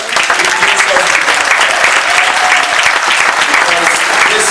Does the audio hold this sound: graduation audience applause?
yes